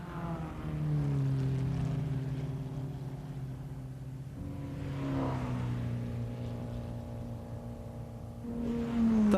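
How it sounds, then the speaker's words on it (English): Formula 2 Porsche race cars circulate at the 1957 German Grand Prix, their engines making a steady, droning note that swells and sags in pitch as the cars pass, with a fresh rise at the end. "The Formula 2 Porsches keep circulating."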